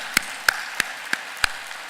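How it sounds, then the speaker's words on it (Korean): Five sharp, evenly spaced hand claps ring out one at a time in a church service, each crisp and distinct with quiet gaps between, rather than a full congregation's applause. "우리 감사하는 마음이 있으면 박수로 하나님 앞에 영광을 돌려드립시다."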